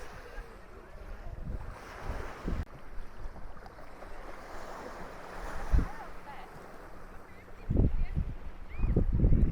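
Waves break on the beach at Kendwa, Zanzibar, after days of bad weather, with steady wind buffeting the microphone and surges of surf rising toward the end; faint voices murmur in the background.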